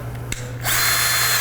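A power drill with a mixing paddle whirs into motion, spinning at reduced RPM in a small container of metallic epoxy for a countertop dirty pour; a brief tap precedes a steady, close, loud whine with no talk.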